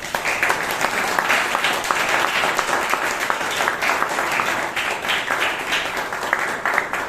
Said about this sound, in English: Please give them all a very big round of applause.